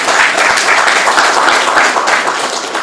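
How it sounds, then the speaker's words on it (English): Audience applause breaks out at a press briefing on Nigerian security, dense and sustained clapping from many hands filling the room at close range, steady throughout with no break. "I'm thinking we still need to clap for that success story."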